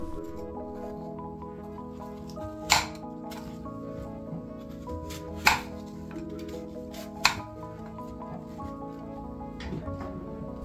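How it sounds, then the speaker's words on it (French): A knife cuts apples into halves and then quarters, giving three sharp isolated chops spaced a few seconds apart over a soft, steady background hum. "je vais venir les couper d'abord en deux puis en quart"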